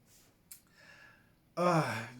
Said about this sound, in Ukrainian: Гу-гу-гу, позіхаю.